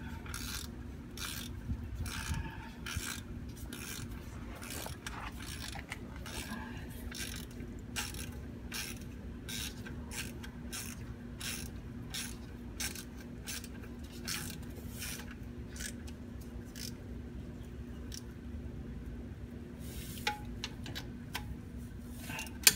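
A ratchet-style wrench tightens transmission bolts on a VW Tiguan during a transmission fluid and filter change, giving rapid, irregular clicking bursts up close over a steady low hum.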